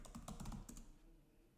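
A quick run of keystrokes on a computer keyboard, a handful of close, crisp clicks over about a second before fading to quiet, with no talk.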